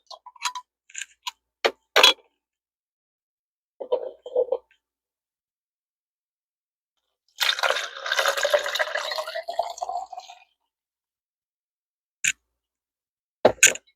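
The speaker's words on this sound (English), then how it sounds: "now we're going to pour the tea." Tea is poured into a glass holding rosemary leaves, a steady liquid stream lasting about three seconds whose pitch rises as the glass fills, with sharp clinks and taps before and after in a quiet room.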